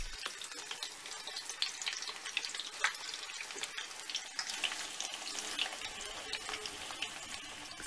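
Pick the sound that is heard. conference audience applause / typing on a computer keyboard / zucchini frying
zucchini frying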